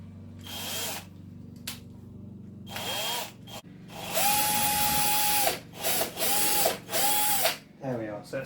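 Power drill boring into a piece of wood for a birthday calendar, a broken bit fragment stuck in the hole; close, loud whirring bursts starting and stopping in several short runs with pauses between.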